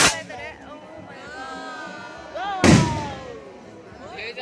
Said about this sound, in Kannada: ಅವರು ಹೇಗೆ ಪಟಾಕಿ ಅಂಟಿಸ್ತಾ ಇದಾರೆ ನೋಡಿ ಕೈಯಲ್ಲೇ ನೋಡಿ